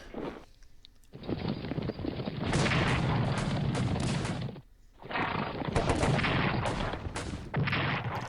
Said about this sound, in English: Defensive artillery doing its job quite well there